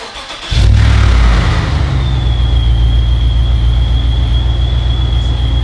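A twincharged Chevrolet Silverado truck engine fires up and settles into a loud, steady idle with methanol injection running, a deep rumble close by and a thin whine holding above it, no talking.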